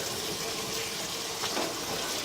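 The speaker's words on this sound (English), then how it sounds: "So we're going to turn the cold water on in this sink here." Cold water runs from a sink tap in a house during a sewer pipe inspection, a steady, close rushing stream with no break.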